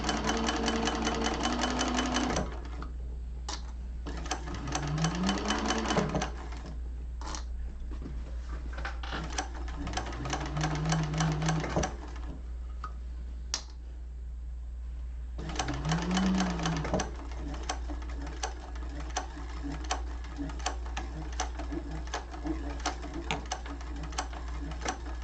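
A sewing machine stitches a hobo bag lining in a class setting, running in bursts of fast, even needle clatter separated by short pauses, with a steady low hum underneath throughout.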